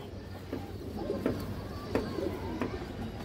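A domestic pigeon, a female of a fancy breed, coos in soft repeated calls at close range over a low background hum, with a few brief sharper notes spaced about every second.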